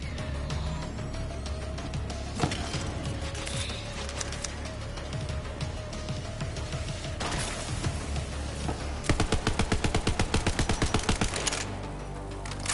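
Gunfire during an attack in the Borderlands 3 video game: scattered single shots, then a rapid automatic burst of evenly spaced cracks, loud over a constant game background, with no talking.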